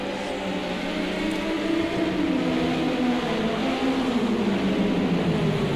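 Vintage touring race cars in Project CARS 2 racing closely, a loud continuous engine whine rising and falling in pitch as they accelerate and shift through a corner, several cars overlapping.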